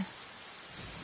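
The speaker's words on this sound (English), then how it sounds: "It's raining." Steady rain falls in Genshin Impact as a continuous, even hiss of drops, moderately quiet and uninterrupted for the whole moment.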